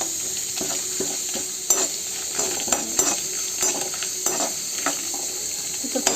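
Onion, garlic, chili, cumin and pepper fry in a pan with a steady close sizzle, broken by repeated sharp scrapes and clicks of stirring, no talking.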